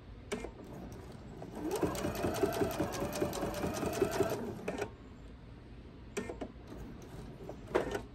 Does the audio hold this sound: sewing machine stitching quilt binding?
yes